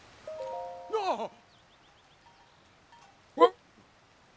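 Goats bleat in The Legend of Zelda: Tears of the Kingdom, with a wavering, fairly loud cry near the start, a short sharp bleat midway and another cut off at the end, separated by near silence.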